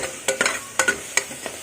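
Spiced vegetable masala frying in a pan, stirred with a spoon: a handful of sharp scraping stir strokes at irregular intervals over a faint background sizzle, close and fairly quiet.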